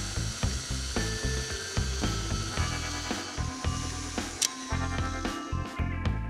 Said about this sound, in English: I'll add them with the mixer going on low speed.